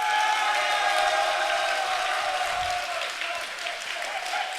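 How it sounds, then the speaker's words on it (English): A crowd cheers and applauds loudly and continuously at the final of an esports tournament, a dense roar that fades slightly toward the end while a commentator talks over it. "The crowd goes wild for Okinamo, quite literally, and for a good reason."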